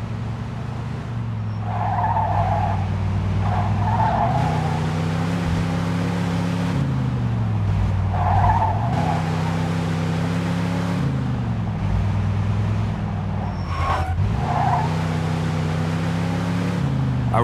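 A car is driven in the video game Mafia 2, its engine droning close and steady with pitch rising and falling through gear changes, plus several short bursts of tire skidding and squeal, no talking.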